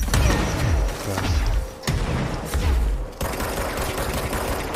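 Video game gunfire in Control, bursts of rapid booming shots and heavy thuds repeating across the span, loud and dense, with little talking.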